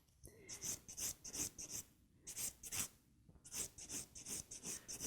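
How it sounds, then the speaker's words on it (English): A file rasps across the top of an acrylic nail in quick, close, rhythmic strokes, grouped in short runs with brief pauses between them, quiet and unaccompanied by voices. "Then you're going to do the third step in filing, which is the top of the nail."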